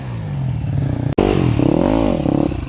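An enduro dirt bike, a Honda or KTM, riding through sand, its engine droning and revving loudly and close with rising pitch, broken by a brief dropout before surging again.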